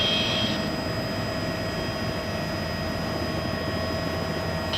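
Steady, loud roar of a rescue helicopter's engine and rotors taking off, continuous and unchanging, close by with no voices.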